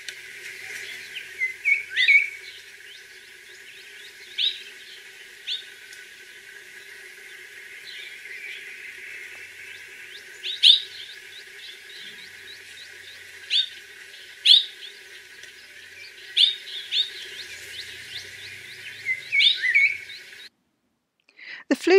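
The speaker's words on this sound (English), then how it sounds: "It was a surprise when I found this oriole calling." A hooded oriole gives repeated sharp chirps and brief whistled notes over a faint background, scattered irregularly at moderate distance, with no voices.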